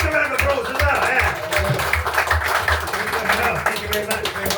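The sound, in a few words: audience applause for the MC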